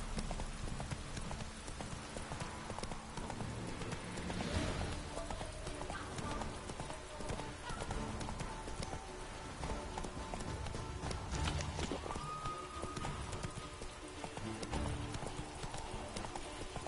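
Roach, the horse in The Witcher 3, gallops with rapid, continuous hoofbeat clip-clops at a moderate level, plus a brief whinny and a voice speaking over it.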